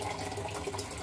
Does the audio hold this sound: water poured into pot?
yes